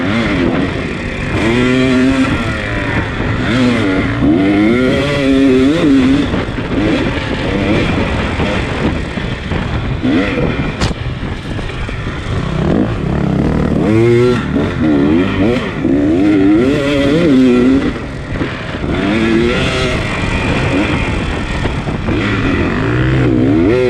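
A 300 enduro dirt bike engine revs hard and continuously at close range during an enduro race, with rising and falling pitch sweeps as the rider works the throttle through the trail.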